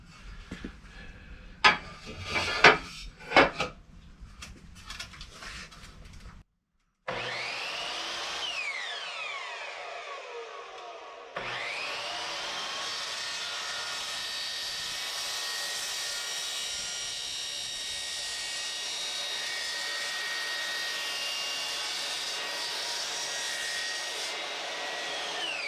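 Power saw cutting pieces of wood to length for basement shelf feet, with scattered clattering handling noise at first, then a brief spin-up and a long, loud, steady whining cut running to the end.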